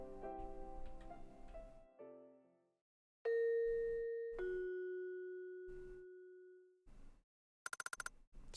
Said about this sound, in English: Sound of a doorbell.